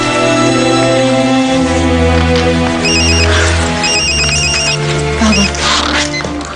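A telephone rings repeatedly in a quiet indoor room during a French TV drama scene, its electronic ring pulsing in short bursts over a steady background music bed.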